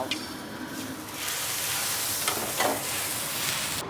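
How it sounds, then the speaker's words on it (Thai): Plain water thrown onto a flaming pan during cooking bursts into a loud, close, steady sizzle and hiss that swells and carries on throughout with no talk. "แล้วเราดับมันด้วยอะไรอะเชฟ น้ำเปล่าครับ น้ำเปล่า"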